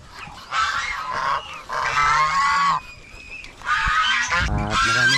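Pet ducks on a farm, loud repeated honking quacks in several close bursts, with other fowl nearby.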